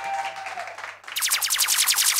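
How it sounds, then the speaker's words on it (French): Studio audience at a French-language TV variety show clapping hands, a steady run of rapid claps starting midway after a brief tonal passage and continuing loudly to the end. "Applaudissez pour vous,"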